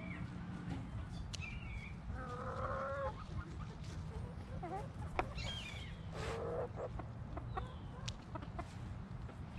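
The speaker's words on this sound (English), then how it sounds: "All the chickens are over here watching me harvest everything." Backyard chickens clucking around a cayenne pepper garden, a steady mix of soft clucks and chatter from several birds at moderate distance over low outdoor noise.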